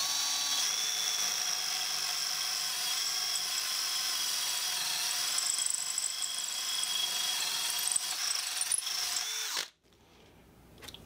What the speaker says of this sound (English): It wasn't really anything to drilling this thing out.